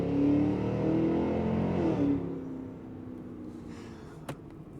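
Revving V8 engine of a 2026 Cadillac Escalade V, a 682-hp full-size SUV, heard from the cabin: a loud, deep rising roar for about two seconds that eases off into a quieter settling rumble, with a brief knock near the end.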